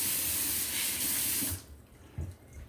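Tap water runs in a steady, close rush while green olives are rinsed, then cuts off after about a second and a half, leaving faint drips and handling noises.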